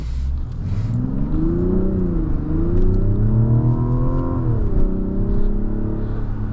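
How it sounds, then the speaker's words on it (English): A 2025 Mazda CX-70 Turbo S Premium Plus inline-six accelerates hard, its rising harmonic engine note climbing steadily, dipping briefly at a shift, then building again, loud and close from inside the cabin. "that inline 6 engine sound is just sweet"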